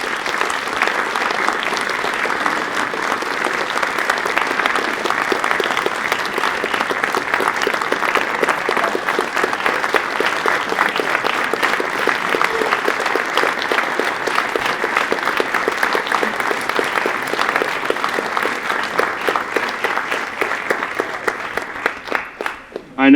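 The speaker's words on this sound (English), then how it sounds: "Let's give our new Eagles one more round of applause." A room full of family and troop members applauds new Eagle Scouts at a Court of Honor, a long, loud, sustained wash of clapping that holds steady for about twenty seconds before tapering off near the end.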